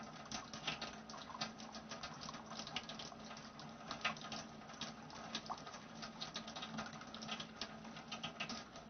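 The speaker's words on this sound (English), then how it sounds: "we'll fill it up with the water from the Tient unit" Water from a Tient alkaline ionizer unit runs steadily into a glass, a continuous close splashing patter that lasts throughout with no voices.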